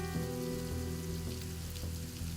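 Steady rain falls continuously on a surface on a stormy night, a dense even hiss with low rumble beneath, close and unbroken for the whole stretch with no voices.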